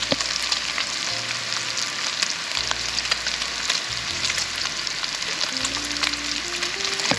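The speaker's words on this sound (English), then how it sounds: "we'll give that a second to fry down" Bacon bits frying in hot grease in a pan, a loud, dense, continuous crackling sizzle up close with no pauses and no talk.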